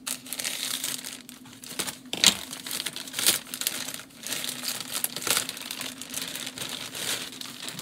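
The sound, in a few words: poly mailer bag crinkling while being cut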